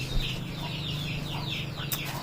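A chicken clucking in short repeated bursts over a steady low hum, close by.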